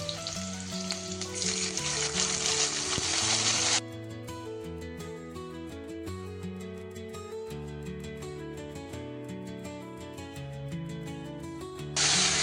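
Green beans and chilies frying in oil with a steady close sizzle. Strong at the start, it drops under a melodic musical backing partway through and swells again at the very end.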